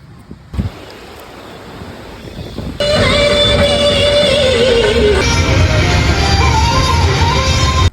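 Rushing water of the Kaveri river at a riverside spot, a loud broadband roar that grows stronger partway through with a steady whine over it, heavy wind buffeting the microphone.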